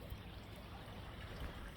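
A stream swollen after heavy overnight rain rushes and trickles steadily, a faint continuous watery wash with no talking.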